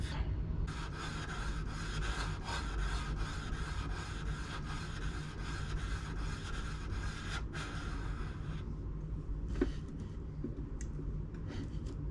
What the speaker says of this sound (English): Okay, hand sanding begins.